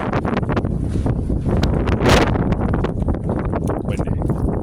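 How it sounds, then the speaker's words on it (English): Strong wind buffets the microphone in loud, rumbling gusts, peaking in a roaring blast midway, with faint rustling and footsteps around it. "Windy."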